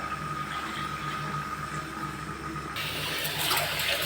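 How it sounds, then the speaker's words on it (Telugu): Water splashes and runs steadily as a stone mortar is rinsed with filtered water, growing brighter and louder near the end like pouring from a tap. "దీంట్లో మళ్ళీ ఫిల్టర్ నీళ్ళు పోసేసి కడుగుతా"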